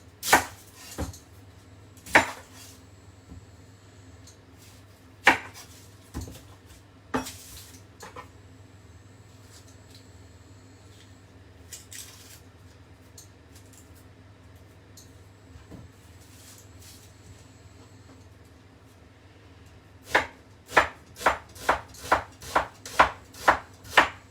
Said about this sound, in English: Start by chopping up half an onion.